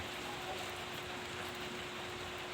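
Steady rain falls on a wet day, a faint, even wash of hiss with no breaks and no voices.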